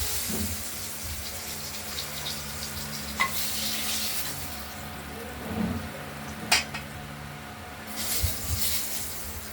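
Dry chillies, bay leaf, black cumin and white cumin sizzle in hot oil in a pan, a steady close crackle with a few clinks and scrapes of stirring.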